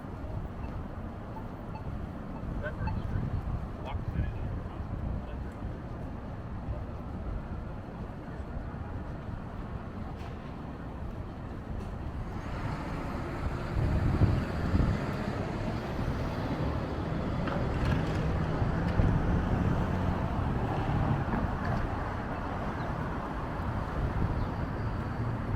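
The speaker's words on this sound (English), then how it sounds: "Hopefully as I round the bend here, this wind will calm down." Strong wind buffets the microphone on Cambridge Street in downtown Boston. It is a constant roar that swells louder partway through, with faint traffic mixed in underneath.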